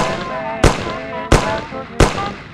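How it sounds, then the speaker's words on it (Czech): Three loud, sharp gunshots from the Mafia video game ring out at even intervals over a steady backdrop of game music. "Co to bylo za střelbu?"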